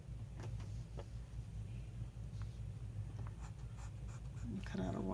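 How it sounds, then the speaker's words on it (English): A coloured pencil scratches a white line on paper in a steady, close, dry scraping rhythm over a low background hum. A voice comes in faintly at the end. "Let's cut out with our pencil a little white line going around here."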